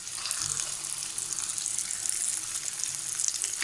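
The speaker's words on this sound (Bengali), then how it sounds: "গাজর আর পেঁয়াজ আর কাঁচামরিচটাকে আমি কিছুক্ষণ ফ্রাই করে নেব।" Carrot, onion and green chili frying over high heat in a pan for restaurant-style beef chow mein, a close, steady crackling sizzle with faint stirring and no voices.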